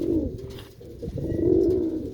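Pigeons coo in soft, low, throaty rolls, a couple of drawn-out calls close by, with a faint background murmur and no clear speech.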